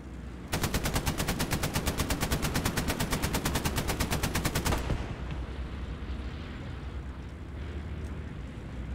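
Rapid automatic gunfire in Hell Let Loose, a long, loud, evenly spaced burst of rounds lasting about four seconds, then giving way to a lower rumbling battlefield background.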